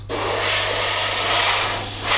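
A paint spray gun gives a steady, loud, close hiss, a continuous spray lasting about two seconds with a slight dip near the end.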